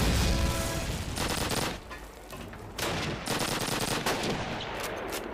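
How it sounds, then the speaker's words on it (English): Sustained machine gun fire in the Call of Duty multiplayer game, loud bursts of rapid shots with short gaps between them, close and dominant. "Machine gun!"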